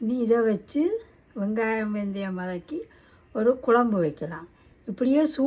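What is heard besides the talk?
No everyday noises stand out.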